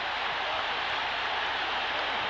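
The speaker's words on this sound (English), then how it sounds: "A tremendous crowd of people are pushing their way in" A huge arena crowd roars and applauds after the Muhammad Ali vs Leon Spinks rematch, a dense, continuous wash of cheering and clapping with no single voice standing out.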